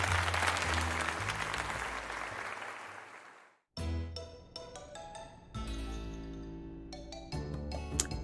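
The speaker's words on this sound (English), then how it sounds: "let us give another heartfelt round of applause to Rudy" Game crowd applause from Pokémon Legends: Z-A on Switch 2 fills the first few seconds as a broad clapping wash that fades to a brief silence, followed by chiming tonal game music and clinking effects.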